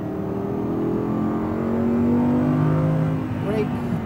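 An Audi R8 V10 RWD accelerates steadily on a race track at Speed Vegas, its engine note climbing smoothly in pitch, loud and close from inside the cabin, while an instructor talks over it.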